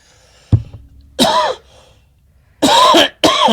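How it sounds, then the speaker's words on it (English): A sharp thump on the microphone, followed by three harsh coughs close up, the last two in quick succession. "I was trying not to cough in the mic, and I, bam, hit it."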